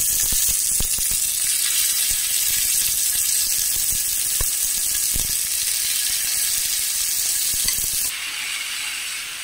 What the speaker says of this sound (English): The next thing is to transfer the turkey into the saucepan